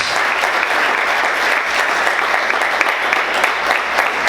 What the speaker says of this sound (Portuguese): Vamos aplaudir Jesus bem forte, queridos.